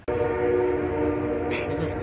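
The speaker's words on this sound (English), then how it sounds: "Is this train gonna wait?" A train rumbles loudly and steadily throughout, with a sustained horn-like drone from start to finish and no break in the noise.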